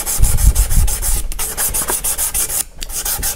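Guitar frets on a Donner Strat are being sanded by finger with 1000 grit sandpaper, giving close, rhythmic back-and-forth rubbing strokes with brief pauses, no talking.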